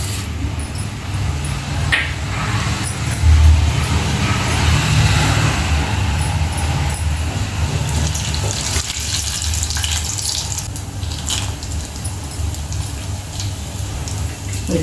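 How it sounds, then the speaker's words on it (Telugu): Tempering seeds crackle and sizzle steadily in hot oil in a pan while cooking dosakaya pappu, a continuous close hiss with scattered pops lasting the whole stretch. "ఇప్పుడు ఆయిల్ వేడైంది కదండి, తాలింపు గింజలు వేసుకుందాం."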